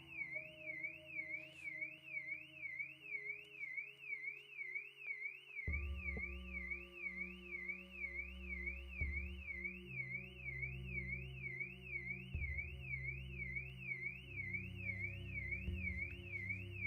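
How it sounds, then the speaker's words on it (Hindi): A car alarm wailing at night at a resort, a continuous rapid warbling siren tone going on without a break, heard over a bed of background music, no talking. "गाड़ी का अलार्म बजने लग गया है?"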